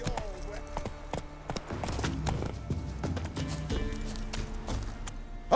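Horse hooves clop in a quick galloping rhythm on the ground in The Witcher 3, close and steady under game music, with a rider's voice briefly heard.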